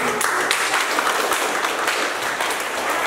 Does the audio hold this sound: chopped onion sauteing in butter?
no